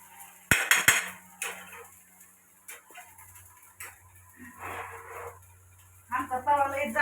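A thick, heavy pan clanks as it is handled and set aside in a home kitchen, a few sharp metallic knocks and scrapes amid quiet clatter, with someone talking intermittently.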